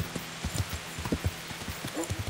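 A horse's hooves clip-clop on the ground in the medieval game Kingdom Come: Deliverance, a steady close walking rhythm of distinct hoof strikes over a faint background.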